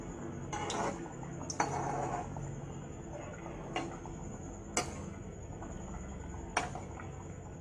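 Mathri being stirred in a pan as it fries, with several sharp clinks of a utensil against the pan at irregular intervals over a steady low background.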